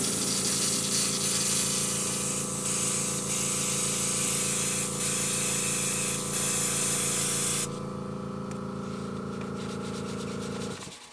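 An airbrush sprays paint onto a backdrop with a continuous loud hiss close by, steady for most of the stretch before dropping in intensity near the end, alone without talk.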